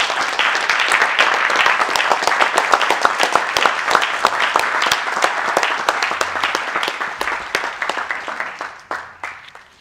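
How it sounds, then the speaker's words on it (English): A congregation claps during a livestreamed religious gathering, with loud, distinct individual hand claps forming an energetic burst that gradually thins and fades toward the end. "I'll give Mr. Who a hand clap"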